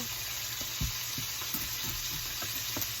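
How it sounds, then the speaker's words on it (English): A pork roast sears in a hot pan, a steady close sizzle with faint scattered pops and soft knocks as it is turned. "I'm going to hold it up on both ends to make sure it's nice and seared all the way around."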